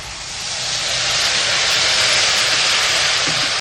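A spice paste hits hot oil seasoned with cumin and sugar, giving a loud, steady sizzle and hiss that swells and holds close before stopping abruptly.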